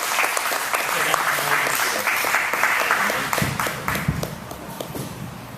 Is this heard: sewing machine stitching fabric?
no